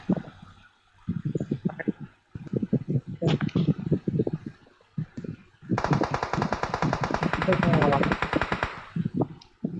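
Rapid automatic gunfire in PUBG Mobile, bursts of sharp shots in uneven clusters, with one long sustained burst in the middle, mixed with a person talking in between.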